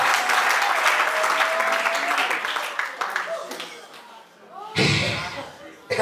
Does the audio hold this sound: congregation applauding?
yes